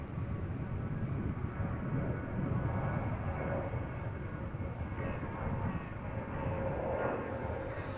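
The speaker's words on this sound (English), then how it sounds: "that's an A330 coming our way. So that is going to be noisy" Airbus A330 airliner on the runway at Amsterdam Schiphol, a constant loud low jet engine roar with wind noise, steady throughout.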